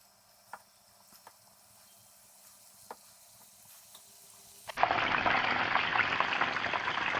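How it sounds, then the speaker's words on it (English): Flour-coated rockling fish go into hot oil. A few quiet clicks come first, then a loud, dense frying sizzle bursts in and keeps going steadily up close. "I'm pretty much just gonna fry them in it."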